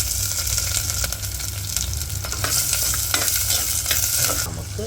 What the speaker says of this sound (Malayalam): ആദ്യം തന്നെ നമ്മൾ ചെറിയ ഉള്ളി പച്ചമുളകും ഇടാം